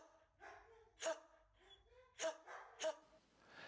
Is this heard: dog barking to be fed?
yes